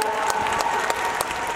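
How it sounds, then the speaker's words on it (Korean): Audience at an open talk at the Busan International Film Festival gives a short burst of applause, scattered claps over a steady tone. "네, 큰 박수 부탁드립니다."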